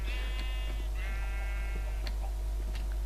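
Sheep bleating in Minecraft, two drawn-out nasal bleats close together near the start followed by faint ticking and soft game ambience, with no talking.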